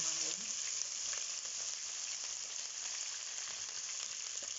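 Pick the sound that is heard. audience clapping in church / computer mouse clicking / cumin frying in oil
cumin frying in oil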